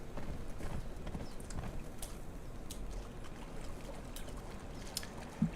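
Horse hooves clip-clop steadily while riding in the video game Conan, a faint, even rhythm under a soft wash of ambient noise.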